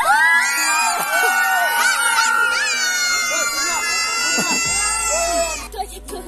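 Group of children at a Children's Day gathering shouting and cheering together on cue, a loud overlapping chorus of high voices that holds for several seconds before dropping away.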